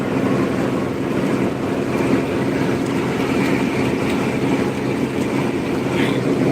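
A bus drives along the Dhaka–Cumilla highway at night, a steady, fairly loud engine and road rumble with broadband wind-like rush that stays even throughout, with no voices.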